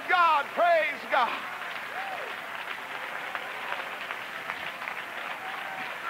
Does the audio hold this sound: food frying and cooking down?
no